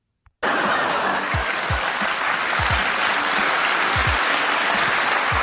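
A studio audience bursts into dense, sustained clapping after a moment of silence, loud and steady to the end, with a few low thumps beneath.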